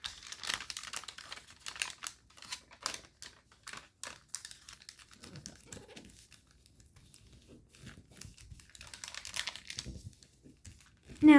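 Paper folded into an inside reverse fold for an origami jet, with close crisp crinkling and tapping creases in irregular bursts, a louder crinkle closing the passage.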